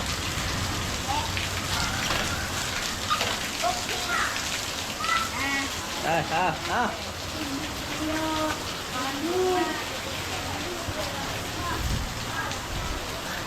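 Steady rain falls outdoors as a constant broadband hiss throughout, with voices talking over it and a few brief tonal sounds in the middle.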